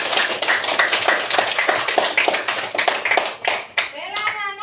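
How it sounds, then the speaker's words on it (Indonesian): Children clap their hands together in a classroom lesson, a quick run of sharp, irregular claps at close range. A teacher's voice talks over the clapping, and the claps fade near the end. "Tepuk tangan buat Yoni."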